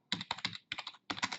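Typing on a computer keyboard while entering a search term in software, heard as three quick bursts of clicky keystrokes with short pauses between them, close and alone.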